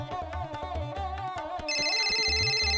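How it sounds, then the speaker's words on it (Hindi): A mobile phone ringing at home in a repeated melodic ringtone pattern, steady and fairly clear, with a brighter, louder chime layer joining toward the end. "बहू तुम्हारा फोन बोल रहा है।"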